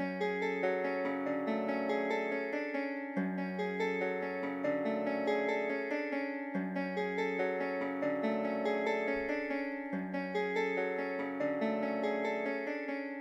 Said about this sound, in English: The only effect that I added was this EQ to take down those two frequencies that I didn't like